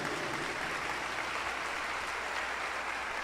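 Continuous applause from a large congregation at a Catholic Mass, an even wash of clapping that sounds somewhat distant and muted, holding steady throughout.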